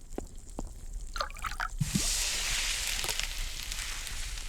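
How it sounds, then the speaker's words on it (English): Liquid pours from a pot into a pan in an alien-cooking game, starting with a few soft drips and splashes and then settling into a steady, faint sizzling trickle. "Pour the broth from the pot into the pan."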